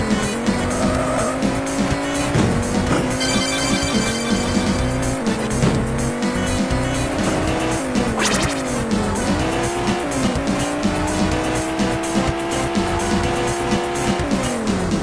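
Race cars skid and drift with squealing tyres and roaring, shifting engines in the Amiga racing game ATR, a continuous loud run of revs and skids with no talk.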